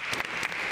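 An audience at an International Women's Day forum claps in a steady wash of applause, with no voices over it throughout the brief moment.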